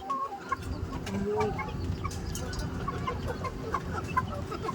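A young rooster recovering from a fight with another cockerel clucks in a farmyard, with short repeated calls over a busy background of other fowl and birds, close and moderately loud.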